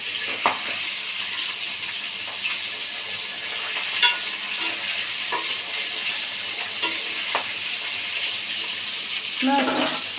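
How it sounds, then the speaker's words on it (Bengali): Rohu fish fries in hot oil, a dense bright crackling sizzle with scattered spatters and pops, near and fairly loud throughout, with a few clinks of a spatula stirring. "অলমোস্ট হয়ে গেছে মাছ ভাজা।"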